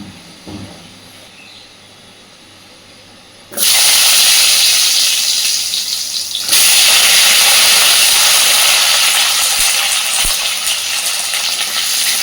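Cut potatoes and a bay leaf fry in hot oil for a pointed gourd kofta curry: a quiet stretch, then a sudden loud, steady hiss of sizzling that swells even louder partway through and continues.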